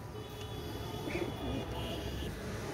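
Pigeons cooing softly in a loft, a few faint low coos over a steady background hum.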